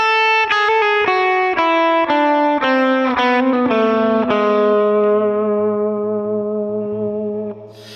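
A fast melodic minor lick on distorted electric guitar, smeared with echo and chorus effects, runs through quick hammer-ons and pull-offs. The notes step along steadily, then a last note rings out and fades.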